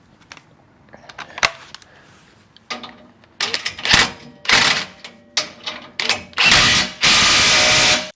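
Power tool driving a 3/4 inch socket on the bolts that secure an ARB winch bumper to a 1st-gen Toyota Tacoma frame, rattling in short bursts that grow longer and louder, ending in a sustained loud whir.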